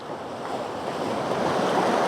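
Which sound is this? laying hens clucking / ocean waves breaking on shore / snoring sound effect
ocean waves breaking on shore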